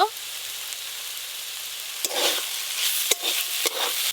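Red amaranth greens are stir-fried with poppy seeds in a pan, with quiet frying hiss and a few sharp spatula scrapes and knocks in the second half.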